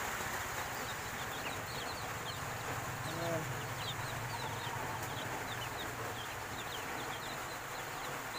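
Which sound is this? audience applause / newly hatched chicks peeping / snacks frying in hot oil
newly hatched chicks peeping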